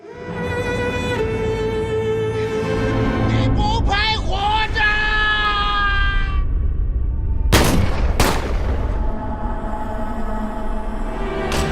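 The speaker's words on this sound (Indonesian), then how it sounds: "polisi berhasil menembak Chang Feng tepat di dadanya." Two sharp, loud gunshots crack out in quick succession during a violent film scene, cutting through a sustained musical score that continues before and after them.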